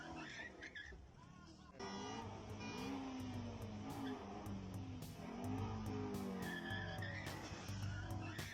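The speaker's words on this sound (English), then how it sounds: "So he tries to floor it but just crashes into the bus." A Mustang floors it in traffic with a revving engine and squealing tires, then crashes into a bus, set against a busy background of road noise. Voices talk over it throughout.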